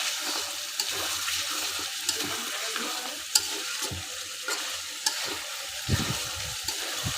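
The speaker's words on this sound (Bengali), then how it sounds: "এভাবেই নেড়ে চেড়ে সুন্দর করে মশলার সাথে কষিয়ে নিচ্ছি" Chicken is stirred and fried with spices in a pan over a clay stove: a continuous crackling sizzle broken by regular scraping and knocking stirs, close and clear.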